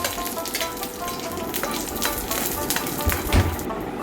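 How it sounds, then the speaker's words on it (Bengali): Dried red chilies and panch phoron crackle and sizzle in hot oil as they are stirred, a steady close frying hiss with occasional pops. "ওইখানে দিয়ে দিলাম শুকনো লঙ্কা আর দিয়ে দিলাম একটু পাঁচ ফোড়ন এটা দিয়ে একটু নাড়াচাড়া করে"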